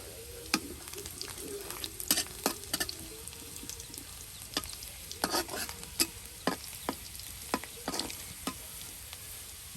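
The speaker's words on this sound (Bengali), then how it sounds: "দেখুন কত সুন্দর করে তেলে আপনার পেঁয়াজগুলো এই যে ভেজে নেওয়া হচ্ছে।" Onions with onion paste and cumin paste fry in oil in a village kitchen, a steady close sizzle broken by repeated sharp clatters of stirring against the pan, with no talking.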